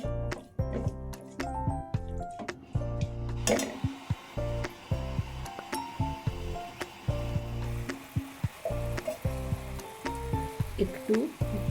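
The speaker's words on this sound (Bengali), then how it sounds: "সয়া সস, নুন আর চিকেনটা ভালো করে একটু নাড়াচাড়া করে নেব।" Chicken pieces fry with soy sauce and salt for mixed chowmein, a sizzling hiss broken by repeated clanks and scrapes of stirring, close and moderately loud throughout.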